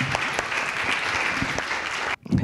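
At a European research event, an audience applauds steadily after a round table discussion, a dense clapping that holds for about two seconds and then cuts off abruptly, followed by a brief noise.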